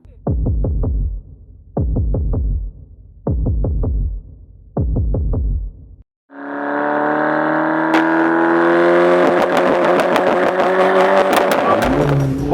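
A modified MK5 Golf GTI gives four short, loud revs in a steady rhythm, then pulls away under hard acceleration, its engine note climbing continuously and close by.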